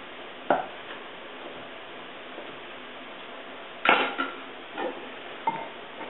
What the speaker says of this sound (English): Just cube this up into a good, medium-sized cube